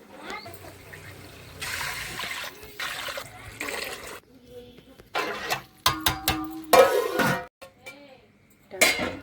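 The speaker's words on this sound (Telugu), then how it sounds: "ఫ్రెండ్స్, గ్లాస్ రవ్వకి 4 గ్లాసులు నీళ్ళు పోసుకుందాం" Water splashes and trickles into a pan of semolina for upma in short bursts, mixed with clattering kitchen sounds and some background noise.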